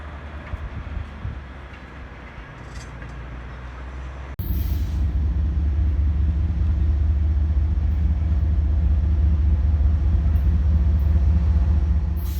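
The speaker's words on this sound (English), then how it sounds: "My first catch of the day was a 2-axle critter working at the malting plant on the other side of the tracks." A two-axle critter locomotive working at a malting plant, a low steady engine rumble that jumps suddenly louder partway through and holds, heard alone.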